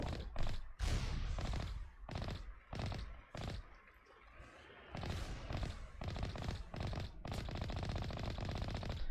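Gunfire in the video game Mass Effect comes in loud bursts of rapid shots, with short gaps between volleys and a sustained stretch of firing toward the end.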